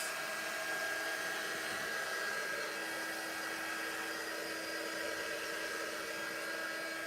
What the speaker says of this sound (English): All I'm doing right now is finishing the drying of the Mod Podge.